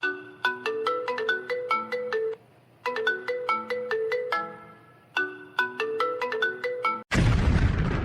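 A phone's melodic ringtone for an incoming call plays its tune three times, loud and close, then breaks off into a sudden harsh noise burst.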